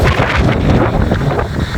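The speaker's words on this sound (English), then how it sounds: "it's getting pretty windy here." Strong wind buffets an outdoor microphone ahead of an approaching storm, a loud, dense roar of rumbling gusts with no other sound standing out.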